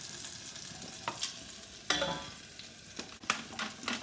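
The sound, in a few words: spring onions sizzling while flash frying in hot pan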